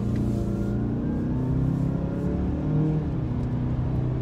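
A 2018 Mazda CX-9 SUV accelerates hard in regular mode, its engine droning loudly with a steady rising rumble heard from inside the cabin for several seconds, without talking.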